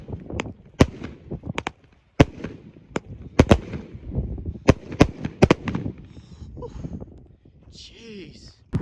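A 25-shot salute cake firework bursting outdoors, a series of sharp, loud bangs at irregular intervals, some in quick pairs, with people talking and reacting between the blasts.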